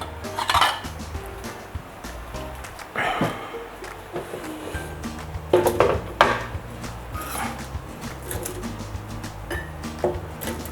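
Plates and cutlery clatter and clink in a home kitchen as a dish is fetched for plant-based crispy pork from an air fryer, several sharp knocks scattered over steady background rustle.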